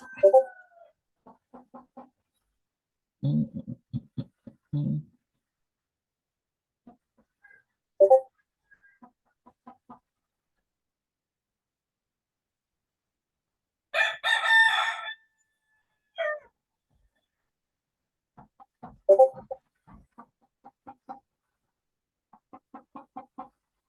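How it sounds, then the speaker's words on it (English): A rooster crows in short clucking bursts and one loud, bright crowing call midway, heard faintly as if outside a window in a quiet room, separated by long silences. "Is the rooster in your room now?"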